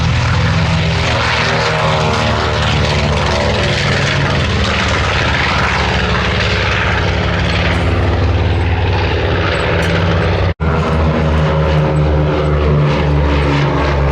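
A vintage propeller warplane performs a flying display at the Sywell airshow, one of a B-25, P-38, P-51 and Corsair. Its engines give a loud, steady droning roar close by for the whole stretch, broken only by a momentary dropout.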